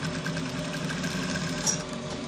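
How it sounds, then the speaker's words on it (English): A sewing machine stitches fabric for a senator top, a quiet continuous mechanical whirr with rapid even needle rhythm, close and steady with no talking. "We're trying to sew."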